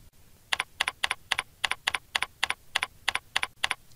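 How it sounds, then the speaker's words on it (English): Keyboard keys clack in quick bursts as a publication name is typed into a journal name search field of a database, about a dozen crisp, close taps spaced in an uneven rhythm with no voices. "Select the journal name field and type in the publication name."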